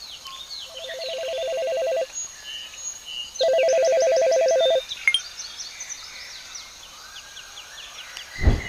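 A phone ringtone plays two steady electronic rings separated by a pause, with faint chirping noises in the background and a thump at the end.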